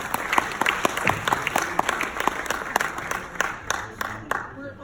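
Audience at a film premiere Q&A for an Eric Garner documentary at the New York Film Festival claps steadily, a dense, sustained round of applause from a crowd filling the hall.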